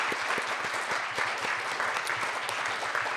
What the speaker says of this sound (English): I'd like to have you join me in giving the panelists a round of applause